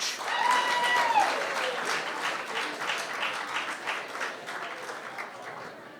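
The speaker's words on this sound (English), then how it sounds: "give a huge round of applause for my absolutely outstanding panelists" Audience at a trust and safety panel event giving a steady round of applause as panelists come on stage, sustained clapping that slowly tapers, no talk over it.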